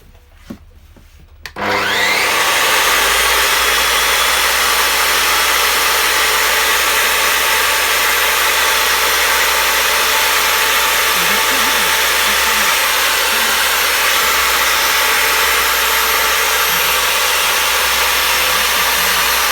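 A Makita 4114S 14-inch concrete cutter switches on after a brief quiet moment and settles into a loud, steady, high-pitched whine with a low motor drone beneath, running continuously and close by.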